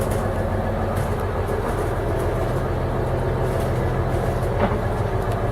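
Steady, low engine drone fills the saloon below deck on a Dutch steel cruiser boat, a continuous muffled hum at moderate level with no speech over it.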